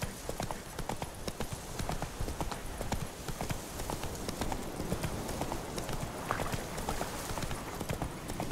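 Roach, a horse in The Witcher 3, gallops steadily with a fast, continuous clip-clop of hooves over a dense, rumbling ground and ambience, loud and close throughout with no talking.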